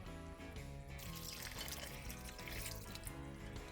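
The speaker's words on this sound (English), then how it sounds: "I think I may add just a dab of water in this because it is drier than I would like." Water poured or run into a pot of drier-than-wanted chicken chili, a faint, quiet splashing and trickling that lasts a few seconds.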